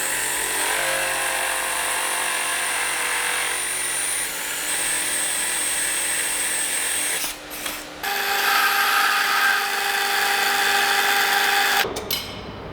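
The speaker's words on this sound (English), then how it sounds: "First thing we need to do is notch this pipe again to fit around our main tube." A power tool notches a metal pipe for a power steering cooler mount on a 350Z, a steady high-pitched grinding whine that runs continuously, briefly cuts out, then resumes before stopping near the end.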